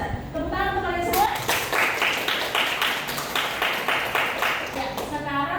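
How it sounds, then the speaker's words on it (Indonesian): Students in a classroom clapping together for a few seconds, a steady ragged patter of many hands, with a teacher's voice heard briefly before and after. "Tepuk tangan untuk kalian semua."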